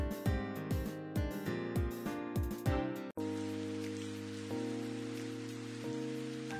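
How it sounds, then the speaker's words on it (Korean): Rain falls in an autumn dating video game, a steady soft hiss under gentle piano music that plays throughout, with the music shifting midway into sustained chords. "헤어지는 날에도 비가 오네요"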